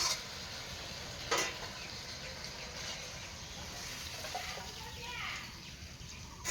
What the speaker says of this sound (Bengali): গাছের 3টে কাঁচা লঙ্কা দিয়ে দেবো, দিয়ে একটু নাড়াচাড়া করে নামিয়ে নেব।